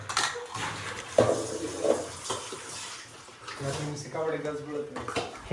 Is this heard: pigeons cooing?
no